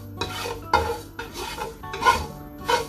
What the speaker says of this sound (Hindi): 1 टीस्पून मेरे पास ज़ीरा है, ये इसमें मैं डाल दूँगा और इसको अच्छी तरीके से मैं भून लूँगा